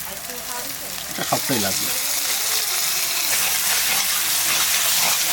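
Ground spice pastes of ginger, cumin and coriander hit a hot pan for goat curry and sizzle loudly and steadily, with a voice speaking briefly over the frying.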